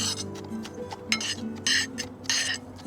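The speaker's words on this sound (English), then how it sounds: "And you can give that a mix." Macadamias seasoned with salt and pepper being stirred in a bowl, with bursts of clinking and scraping in a loose rhythm, near and fairly clear.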